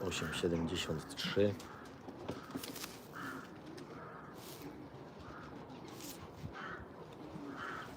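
Soft coos of breeding pigeons repeat at intervals in the background, with a voice talking briefly at the start.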